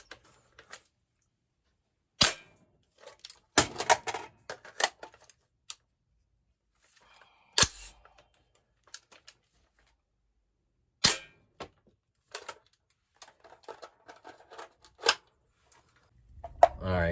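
Sharp, isolated clicks and snaps from an AR-15 fitted with a UTM PR3 training system, fired at home in short bursts and single shots with gaps between, some faint handling noise and movement in between.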